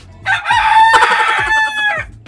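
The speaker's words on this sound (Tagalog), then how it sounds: "Sinsya na may manok dito eh." A rooster crows once, loud and close, a single drawn-out cock-a-doodle-doo with a rising start and a long wavering tail, heard alone without talk.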